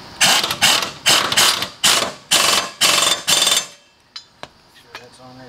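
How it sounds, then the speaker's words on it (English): A 3/8-inch impact wrench hammers a John Deere LT150 mower blade tight, firing in about eight loud, close rattling bursts, followed by a few sharp clanks and knocks of handling. "I use the 3/8 impact, which on the highest setting gives me about 40 foot-pounds of torque."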